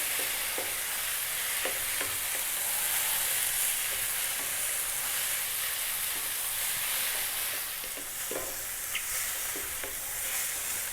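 Curry powder frying in a pan while being stirred, producing a steady, bright hissing sizzle with faint scraping ticks from the utensil, even in level, near and uninterrupted by speech.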